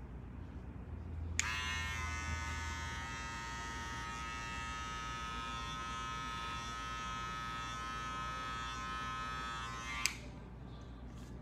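Electric hair clippers buzz steadily for about nine seconds while cutting a modern men's mullet taper, switching on and off with sharp clicks, close and even over quiet background hum.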